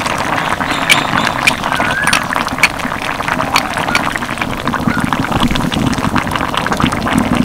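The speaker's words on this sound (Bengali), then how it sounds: "এবার আমি ভেজে রাখা বড়িগুলো দেবো।" Fried lentil bori drop into a simmering pumpkin curry, with steady bubbling and soft plopping, stirring clatter and a few sharp clicks, close and fairly loud.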